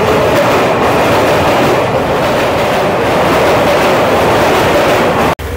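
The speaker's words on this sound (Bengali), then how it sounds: "এর ওপর থেকে ট্রেনগুলো যাচ্ছে" A local train runs steadily overhead on the line from Sealdah toward Kolkata station, a loud continuous rumble with faint clickety-clack of wheels on rails, close and constant, ending in an abrupt brief cut.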